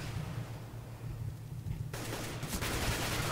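Gunfire in the video game Counter-Strike: Global Offensive, a dense burst of loud rapid shots swelling into sustained fire in the second half over a constant game background.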